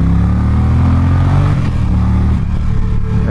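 An Indian Challenger motorcycle on its stock exhaust revs loudly and close by, its deep engine note rising and falling steadily over a few seconds with a slight clattering edge.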